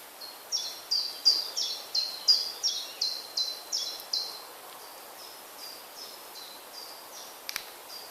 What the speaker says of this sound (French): je suis dans un bois et on entend d'ailleurs les oiseaux chanter